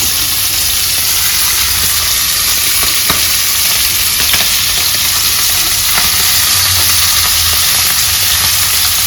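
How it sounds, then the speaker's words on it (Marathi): Garlic sizzles in hot oil in a kadhai while an Agri-style fish fry is prepared, a loud, steady, dense crackle of frying that runs unbroken with no voices. "लसूण थोडं मस्त तडतडलं तेलामध्ये"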